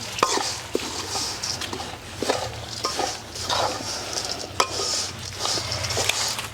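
Stirring spice powders into flattened rice chivda in a pan: steady scraping and rustling of a spoon through dry flakes, with light clinks against the metal, close and continuous.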